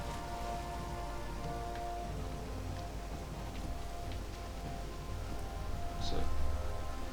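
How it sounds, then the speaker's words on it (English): Steady rain falls in the Valheim video game, a continuous even patter with a soft rumble underneath, brief brighter splashes near the end, no voices. "it's raining again"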